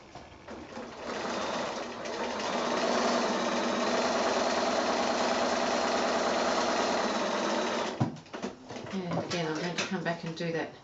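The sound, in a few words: sewing machine stitching quilt squares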